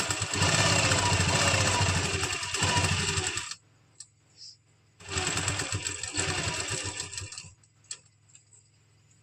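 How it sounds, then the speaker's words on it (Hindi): A sewing machine stitches the lining of a party-wear suit in two long bursts of rapid, steady needle clatter, loud and close, with a quiet pause between runs and no talking. "जहां जहां हमने फिटिंग के निशान लगाए हैं उन पर हम सिलाई कर देंगे।"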